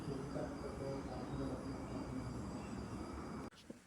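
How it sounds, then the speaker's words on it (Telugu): Passenger train near Chennai rumbling along on the rails, a steady loud roar of wheels and carriage noise throughout, dropping away abruptly near the end, with no talking. "మరొక రెండే రెండు నిమిషాల్లో మనం ట్రైన్ దిగబోతున్నాం"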